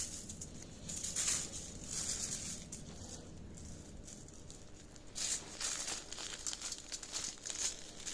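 Heavy-duty aluminum foil is crinkled and folded close up in bursts of crisp crackling, with quieter handling between the louder crumples.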